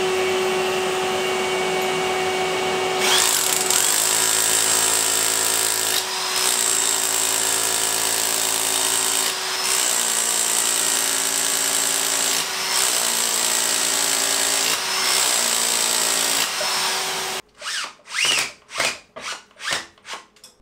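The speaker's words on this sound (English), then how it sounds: "Let's drill some holes." A power drill whines continuously as it bores holes, with brief dips where the bit pauses, then ends in a series of short stuttering bursts close by.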